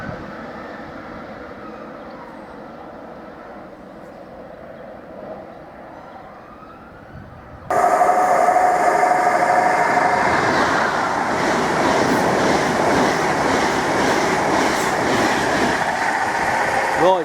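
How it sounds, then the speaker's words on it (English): A Mark 3 passenger set hauled by a Class 90 electric locomotive passes at high speed on its way to London Liverpool Street. A quieter rumble builds until a sudden loud roar begins partway through and holds steady to the end. "the Mark 3 set going at a vast rate of knots, just passed through en route to London Liverpool Street"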